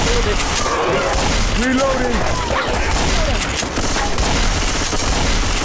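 Dense gunfire from the Left 4 Dead 2 Cold Stream campaign, a rapid fusillade of shots with booming impacts throughout, loud and continuous with players' voices shouting over it.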